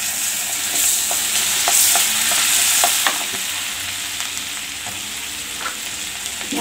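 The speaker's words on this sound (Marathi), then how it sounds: "एक बटर वितळलं की थोडी कोथिंबीर टाकू आधी" Fresh coriander sizzles in melted butter in a pan, a bright steady frying hiss with scattered stirring scrapes and clicks, close and loud with no talking.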